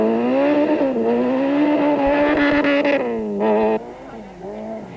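A 1991 Volkswagen rally car engine racing, loud revving held high then dropping and rising again through gear changes, with a brief tire scrabble, close and dominant.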